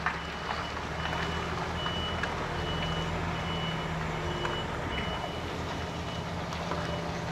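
Truck backing into a bay with regular reversing beeps repeating steadily over a constant low engine rumble, close and sustained without talk.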